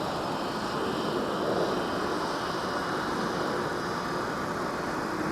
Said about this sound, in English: we get the 757-300 taxiing on Whiskey in front of us